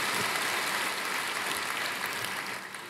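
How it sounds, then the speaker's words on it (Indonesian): A church congregation claps together in steady, dense applause, a continuous wash of hands at moderate level that runs the whole time and eases slightly at the end. "Berikan tepuk tangan kita untuk Tuhan."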